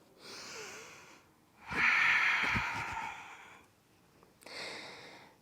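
Deep breaths during a yoga forward fold: a slow inhale, then a louder, longer airy exhale, followed by another breath, close and unaccompanied by talk.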